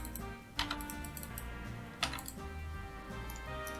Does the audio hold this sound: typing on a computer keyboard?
yes